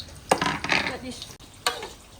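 Snapping turtle meat hitting hot oil sizzles and crackles in bursts, with a couple of sharp splatter peaks and some pan clatter up close.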